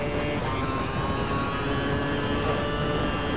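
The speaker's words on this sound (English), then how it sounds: "there's a nice burbling from the engine as I go really slow in first gear" A Formula One car in the F1 2012 racing game, rolling very slowly in first gear on light throttle at the Valencia circuit, gives a steady low engine burble that drones on continuously without any voices.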